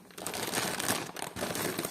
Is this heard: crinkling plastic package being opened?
yes